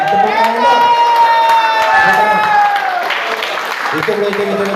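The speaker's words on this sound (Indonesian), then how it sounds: "tepuk tangan" Applause from the attendees of a community security association meeting in West Jakarta, steady clapping mixed with cheering and shouting voices, with people talking loudly over it throughout.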